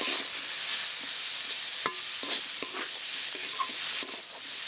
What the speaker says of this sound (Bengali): সামান্য একটু লঙ্কার গুঁড়ো দিয়ে আমি আবারও একটু নেড়ে চেড়ে নেব।